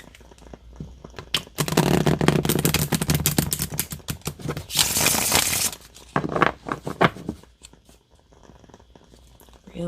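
Rapid papery riffling and snapping of cards in several bursts, close and fairly loud, with short pauses between shuffles.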